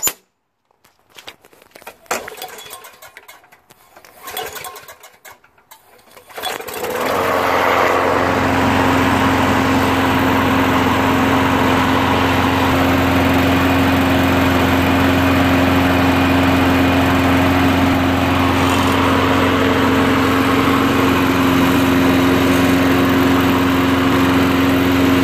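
A Craftsman big-wheel 21-inch push lawn mower with a Briggs 6.5HP engine runs steadily and loudly after some brief handling noises, holding an even, smooth drone for about twenty seconds with no talking.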